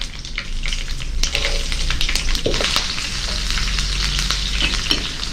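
Green chilli and garlic frying in hot oil with curry leaves for a brinjal curry, a steady dense sizzle with occasional sharp pops and stirring clicks, close and loud throughout.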